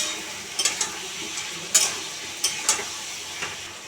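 Pui greens and fish head being stirred in a pan, a soft frying hiss with a few sharp scraping clicks of the spatula spread unevenly across the moment.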